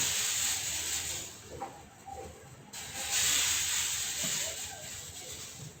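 Rice batter for chita pitha sprinkled onto a hot, lightly oiled pan over low flame, giving a steady bright hiss that swells twice, with faint soft ticks underneath.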